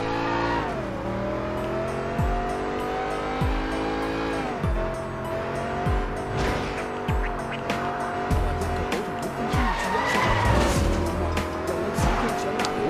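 A car in the game Sleeping Dogs races along with a constant engine drone, passing vehicles and repeated bursts of tire squeal and skidding.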